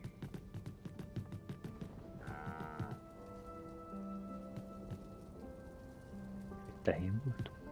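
A cow lows in the Dragon's Dogma 2 video game, a short deep call near the end over soft rain-like patter and scattered taps, with someone speaking quietly at times.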